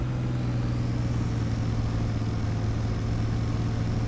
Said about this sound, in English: I'll enable diff lock. And I'll give it some throttle so you can see.